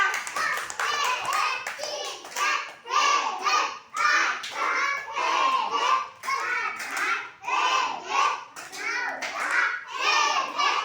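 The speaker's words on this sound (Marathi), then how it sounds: "टाळ्या वाजवा ना पवित्रासाठी टाळ्या वाजवा" Schoolchildren in a classroom clap for a classmate who read aloud, in repeated ragged bursts of hand-clapping with children's voices chattering throughout.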